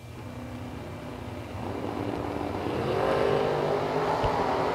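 A Corvette Ragtop runs down a drag strip at a drag racing event: an engine roar that starts distant and steadily grows louder and fuller over several seconds.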